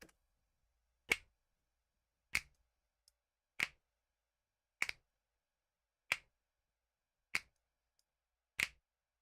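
Finger snap samples play solo through an EQ plugin: seven crisp, isolated snaps land at an even pace, about one every 1.2 seconds, with silence between them.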